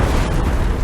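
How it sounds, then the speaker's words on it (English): A combustible dust explosion inside an industrial plant, triggered by a furnace fireball igniting airborne dust, sounds as a loud, dense, sustained roaring blast with heavy low rumble throughout, no voices present. "a fireball erupted from the furnace, engulfing the area and igniting airborne dust in a second, larger explosion"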